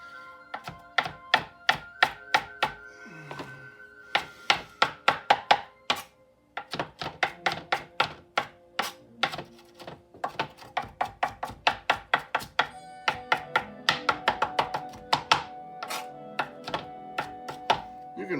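A knife rough chopping fresh cilantro for pineapple salsa on a cutting board, quick rhythmic thuds in bursts with brief pauses, close and crisp, no talking.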